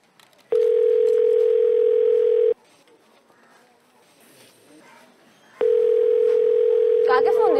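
A telephone tone sounds as a call is placed: a steady, loud tone runs for about two seconds, pauses, then returns toward the end, with a few faint clicks in the gap.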